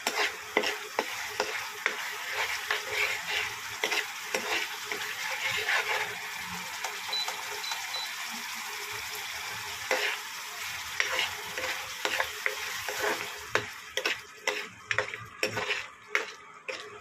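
Spices being stir-fried in a pan for raw banana kofta: a steady close sizzle with repeated scraping and clinking of a spoon against the pan, the stirring strokes growing sharper and more rhythmic toward the end.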